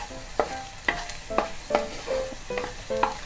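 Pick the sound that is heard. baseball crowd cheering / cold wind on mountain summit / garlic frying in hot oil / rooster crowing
garlic frying in hot oil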